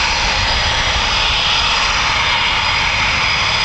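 A Eurofighter Typhoon FGR4 jet roars at RAF Coningsby, a loud, steady, broadband engine blast filling the whole moment without a break, no voices audible.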